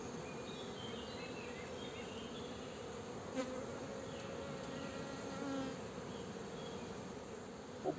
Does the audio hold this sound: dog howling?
no